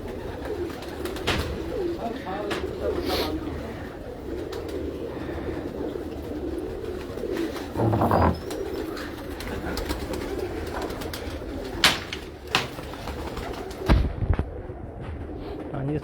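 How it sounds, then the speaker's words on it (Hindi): Red-eyed pigeons coo and rustle close by on a rooftop amid steady outdoor noise, with a few sharp knocks and flaps near the end. "अच्छा कबूतर है, लाल आँख है, सुहेल खान वाला पुराना कबूतर कमागरों में है"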